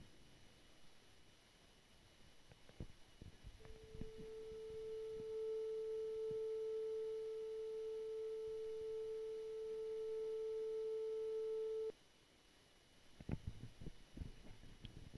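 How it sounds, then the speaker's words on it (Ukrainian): A smartphone tone generator plays a steady pure sine tone for about eight seconds, clean and constant with faint overtones, framed by quiet room noise and a few soft handling clicks before and after. "Налаштувавши відповідну частоту, вмикаємо запис та генератор."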